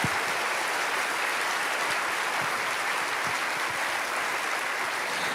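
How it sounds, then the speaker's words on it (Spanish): A church congregation applauds during a sermon, a continuous wash of many hands clapping together. It is steady and moderately loud, with no voices standing out. "Alguien tiene que aplaudir más que eso"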